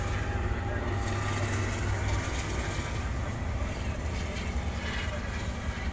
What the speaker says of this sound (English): Here goes the train, check that out.